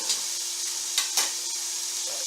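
Onion and garlic sizzling in a frying pan for lamb shanks, a close steady crackle broken by a few scraping stirs.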